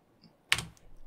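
A single short burst of keys on a computer keyboard, close and crisp, heard alone in a quiet room.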